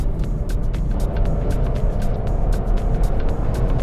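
Nissan Magnite compact SUV accelerating in third gear, heard from inside as a steady, moderately loud engine drone with road noise and a few light ticks and clicks.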